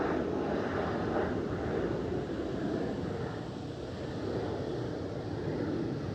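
A departing airliner climbing steeply out of Edinburgh Airport, its engine roar a loud, steady broadband rumble that holds through the whole stretch, dipping slightly midway, outdoors with no talk.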